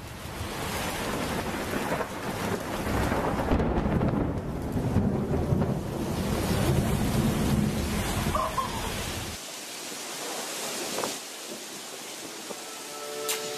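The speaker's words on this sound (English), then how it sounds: "More thunder, more lightning." Heavy rain pours down in a close lightning storm while thunder rumbles loud and long, then the downpour thins to a quieter patter near the end.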